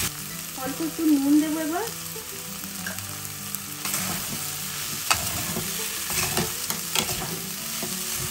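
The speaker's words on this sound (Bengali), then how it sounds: "ক্যাপসিকাম আর পেঁয়াজ, সবকিছু দিয়ে ভালোভাবে নাড়াচাড়া করব।" Capsicum, onion and chilli sizzle and hiss as they are stir-fried in a pan for chicken kathi roll, with steady frying crackle and occasional clinks of a spatula, and a brief spoken line in the background.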